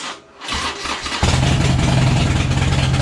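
A Harley-Davidson motorcycle engine cranks and catches after the fuel pump primes, then settles into a loud, steady rumbling idle close by.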